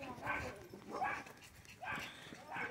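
Several dogs bark from around a home, with a series of sharp, medium-distance barks and yips coming at irregular intervals and no talking heard.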